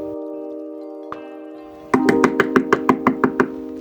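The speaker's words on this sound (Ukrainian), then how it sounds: "там хтось стукає" Rapid knocking sounds on a door, about ten sharp, evenly spaced raps in quick succession over a steady tonal hum that runs through the whole stretch. One lone tap comes earlier.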